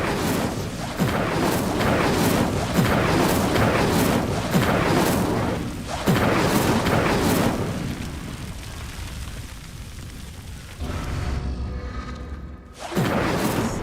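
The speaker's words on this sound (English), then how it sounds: "The flames make the pyre sink." Fire spell bursts and a sinking pyre in Hogwarts Legacy, heard as loud whooshing, roaring rumbles in repeated surges, fading into a low drone before a final crackling burst.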